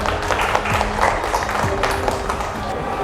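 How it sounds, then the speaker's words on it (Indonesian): A classroom group claps for the first group's presentation, a continuous wash of applause with room murmur mixed in. "Untuk kelompok 1, kita berikan tepuk tangan"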